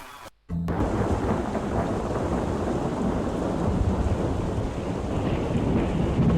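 A thunderstorm in the PC game Dracula Vs The Ninja On The Moon starts after a brief silence, with loud, continuous rain and rumbling thunder that stay steady throughout, no voices.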